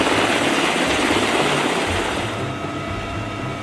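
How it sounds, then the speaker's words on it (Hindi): Military helicopter flying at night, a steady loud rotor and engine roar that fills the whole clip and eases slightly toward the end. "इस वीडियो में रात के अंधेरे में एक हेलीकॉप्टर दिख रहा है, जो कुछ ही देर में आसमान में उड़ान भर जाता है"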